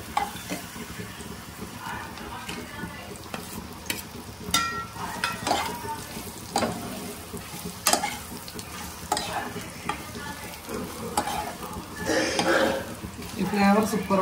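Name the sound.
tempering (tadka) frying in a pan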